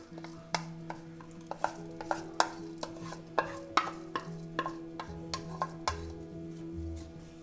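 Rice being added and stirred into a mushroom biryani masala in a pot: a steady series of close scraping strokes and sharp ladle knocks, roughly two per second, over a low continuous kitchen hum.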